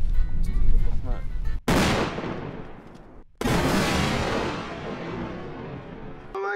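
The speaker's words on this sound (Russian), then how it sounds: "Это светошумовая граната, чтобы вы знали, как она работает." A stun grenade goes off outdoors at a firing range, giving two loud, sharp blasts whose echoing roars trail off over several seconds, following a brief stretch of noisy activity.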